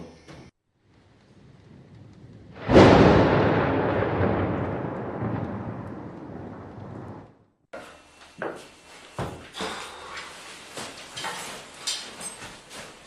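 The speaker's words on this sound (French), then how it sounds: "Encore orage, oh mon Dieu." A loud thunderclap from a storm rolls in and slowly fades over several seconds, followed by steady rain with irregular gusts and patters.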